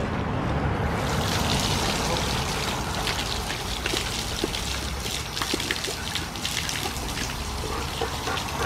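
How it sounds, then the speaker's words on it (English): Tap water runs steadily and close for a group of Siberian huskies drinking indoors in a house, a continuous splashing trickle that lasts throughout. "Now move, honey, so Kitana can have another drink"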